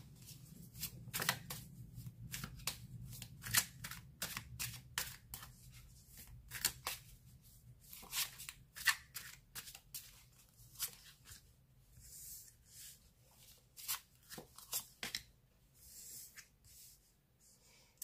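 A deck of tarot cards being shuffled for a reading, with repeated quick riffles and soft slaps close up, coming in uneven bursts with short pauses, and no talking.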